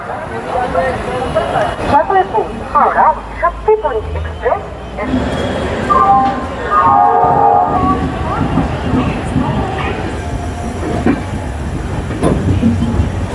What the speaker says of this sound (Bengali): আমাদের ট্রেন ছেড়ে দিল হাওড়া জাংশন থেকে